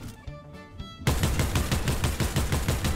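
Rapid gunfire from the Transformer gun in the video game Fortnite bursts in after a quiet second, a loud, dense stream of repeated shots that keeps going to the end.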